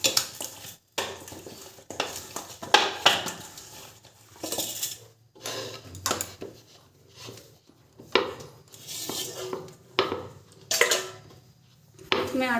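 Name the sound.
kneading wheat dough for aloo paratha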